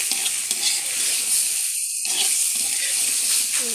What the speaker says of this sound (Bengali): এই যে ভালো করে এটাকে কষিয়ে নিচ্ছি।